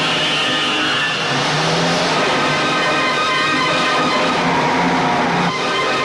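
A car engine revs hard and roars continuously as it speeds off in a Bollywood chase scene, a loud, steady, rising drone with no talking over it.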